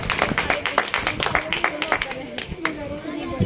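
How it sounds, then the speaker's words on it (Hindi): An audience claps loudly at a Hindi patriotic poetry recital for Independence Day, with a dense run of sharp, close claps and voices mixed in throughout. "एक बार जोरदार तालियां बजाइए।"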